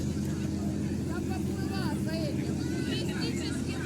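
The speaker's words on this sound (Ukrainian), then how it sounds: "Це якийсь прогулянковий, да? Катер." An excursion motorboat on a lake, its engine a steady low drone under close conversation, with birdsong and other outdoor sounds faintly behind.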